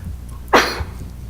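A single short, sharp sneeze bursts out in a quiet room during a school board meeting, close and fairly loud, with faint background murmur before and after.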